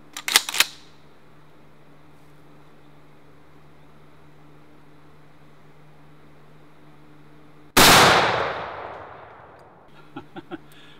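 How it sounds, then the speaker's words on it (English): A 12 gauge shotgun slug fired at an outdoor range at soft targets: one loud, sharp blast with a long decaying roar, followed by small impact or handling clicks. "Now here's the 12 gauge slug."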